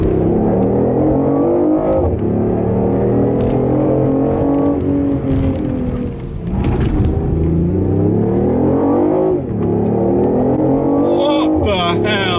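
Hybrid BMW i8 accelerating hard on a test drive, loud and close from inside, engine note climbing steadily through several gears with paddle-shift changes marked by brief drops before pitch rises again.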